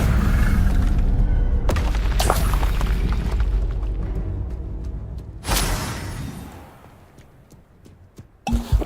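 Spell impacts from Confringo and Expelliarmus in the Hogwarts Legacy video game land as loud booming bursts and crackling blasts, with a sharp hit midway and a few closing pops after a quieter stretch.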